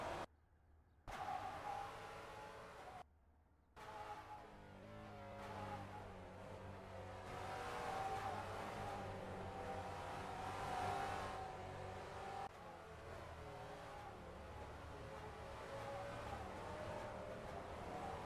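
V8 Mustang race cars at an SRAC V8 Masters round roar around a circuit, a steady engine drone with rising and falling revs and brief drops, several cars close by and passing continuously.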